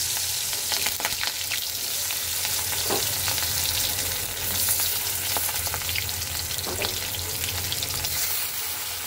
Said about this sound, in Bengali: তো চলো মাছগুলো সুন্দর করে ভেজে নেই এপিট আর ওপিট।